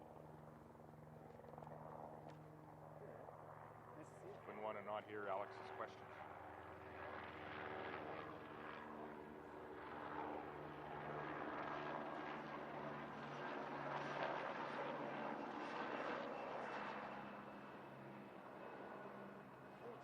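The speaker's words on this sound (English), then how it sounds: "Oh, there's a helicopter. Maybe we'll wait for it." A helicopter's steady rotor drone fills the background, rising slightly in the middle, while people talk nearby over it.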